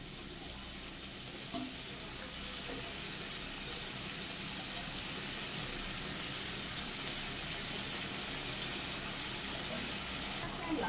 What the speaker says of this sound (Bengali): এইবার অল্প করে একটু জল দেব।